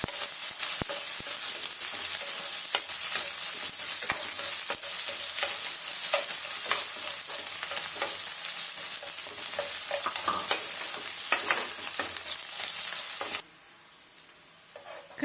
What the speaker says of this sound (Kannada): ಸಣ್ಣ ಈರುಳ್ಳಿನ ಈ ಥರ ಕಟ್ ಮಾಡ್ಕೊಂಡಿದ್ದೀನಿ ಅದು ಸೇರಿಸ್ತಾ ಇದ್ದೀನಿ